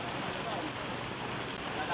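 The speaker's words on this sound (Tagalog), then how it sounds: "Lakas pa ng ulan." Heavy rain pours steadily during a flood in Balagtas, Bulacan, a dense, continuous hiss of drops striking surfaces nearby with no pause.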